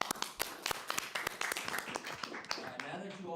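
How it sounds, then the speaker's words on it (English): Scattered clapping from a small group at a city firefighters' pension board meeting, a few distinct hand claps over a steady patter, fairly close and moderate in level, fading toward the end. "So give yourselves a round of applause,"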